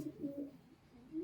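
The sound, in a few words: Dobaz pigeons cooing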